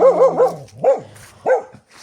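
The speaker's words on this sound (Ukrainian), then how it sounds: "Леся, Леся, ну хочеш гавкати, іди туди, не заважай" A dog barks close by in a rose garden: a quick run of three sharp barks, then two more single barks after short pauses.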